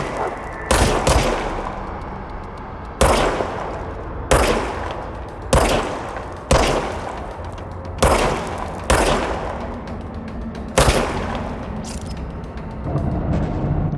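Gunshots from a weapon fired in the video game Control, about eight sharp, loud blasts spaced at uneven intervals, each trailing off with a short reverberant decay, with no voices.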